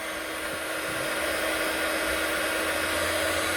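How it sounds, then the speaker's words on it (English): A heat gun blows hot air across the back of a handmade Christmas card, a steady, loud whooshing roar with a fixed motor hum that runs unbroken throughout. "but I'm going to turn the heat gun on."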